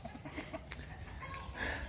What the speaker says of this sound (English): Our rooster just visited a hen.